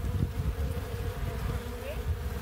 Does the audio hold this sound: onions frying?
no